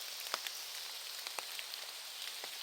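Heavy rain falling at a five-story pagoda at a Kyoto temple, a faint, steady hiss of rainfall with scattered soft drip ticks, no voices.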